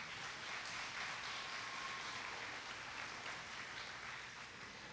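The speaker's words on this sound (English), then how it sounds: "They all deserve a huge round of applause." An audience applauds contestants at a county fair queen pageant, a steady, even wash of clapping from a crowd heard at a distance, fairly faint and unbroken.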